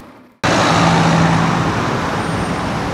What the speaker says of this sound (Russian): За эти пару минут мимо нас проехало около 10 автобусов, курсирующих по разным маршрутам.